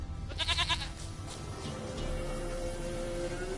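In The Witcher 3, a goat gives one short, wavering bleat near the start, then low ambient noise carries on without further calls.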